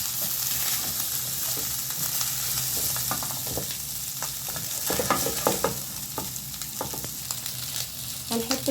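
Sausage frying in a pan over heat, a loud close sizzle with stirring scrapes and sharp clacks and spatters growing busier toward the end, no talking.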